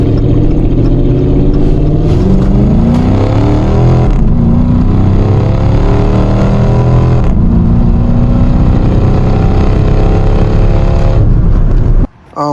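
Dodge V8 car engine with an aftermarket exhaust system, a loud steady rumbling idle with mild revving swells, running continuously up close and ending abruptly near the end.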